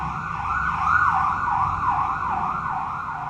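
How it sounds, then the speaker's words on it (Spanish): An ambulance siren passing by, loud and close, with a steady wailing rise and fall over low traffic rumble. "Muy conveniente, pasó una ambulancia."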